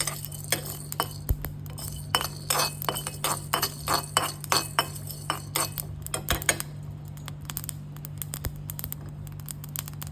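Roasted spices such as pepper and cumin tipped onto a plate, giving a rapid run of light metallic clinks and taps that thin out toward the end, close by with a low steady hum underneath.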